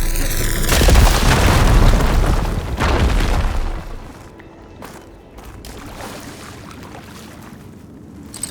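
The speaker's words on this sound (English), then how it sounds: "Should be able to blow up that fire gleam." A fire gleam deposit blows up in Horizon Forbidden West, a loud deep boom with rumbling debris that rolls on for several seconds before fading to quiet cave ambience and scattered small clatters.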